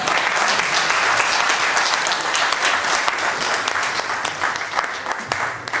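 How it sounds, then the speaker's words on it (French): Sustained audience applause at a book signing event fills the room, dense and steady throughout, fading slightly toward the end. "je voudrais que vous applaudiez encore fort à Sœur Koudou"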